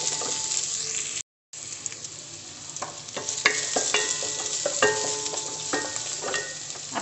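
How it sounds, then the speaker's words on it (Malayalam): Onion, ginger and garlic sauté in a hot pan with steady sizzling and frequent clicks of a spoon stirring, broken by a brief moment of silence early on. "അപ്പോൾ ഇഞ്ചിയുടെയും വെളുത്തുള്ളിയുടെയും പച്ചമണം മാറണ വരെ നന്നായിട്ട് വഴറ്റിയെടുക്കുക"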